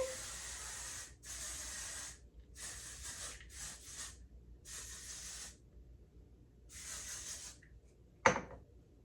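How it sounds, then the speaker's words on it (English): Hairspray from an aerosol can hisses in several short bursts, close and quiet, with pauses between sprays and a small knock near the end. "Okay, we're gonna hairspray."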